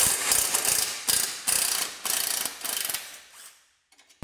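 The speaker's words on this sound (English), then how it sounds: "We just got 4 bolts in total, 2 here to get the flanges undone." Ratchet wrench loosening exhaust flange bolts on a 2012 Subaru Forester, close and loud, with rapid clicking bursts in several strokes, each repeated, fading out near the end with a few faint clicks.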